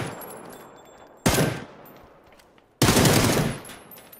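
Dragunov sniper rifle in a video game firing two loud, close single shots, each a sharp blast trailing into a long echoing decay, with a slow gap between them.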